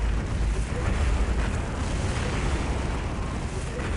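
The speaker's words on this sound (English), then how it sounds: "spitting out warp fire." An Ork Weirdboy spits warp fire in the strategy video game Dawn of War. It is a dense, continuous roaring blast with a heavy low rumble, steady and loud throughout.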